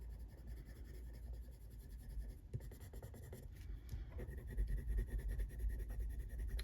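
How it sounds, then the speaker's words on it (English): Coloured pencil scratches steadily across paper while colouring mystic art mirrors, a close, continuous dry rasp with a fast back-and-forth rhythm and brief pauses. "Some colours go down smoother than others on this paper."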